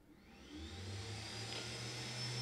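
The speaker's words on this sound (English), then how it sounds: "let's turn on the horrible noise of the fume extractor" A fume extractor fan at a soldering bench spins up and runs as a steady, broadband whoosh with a low hum that builds over the first second, then holds constant and moderately loud, with no talk.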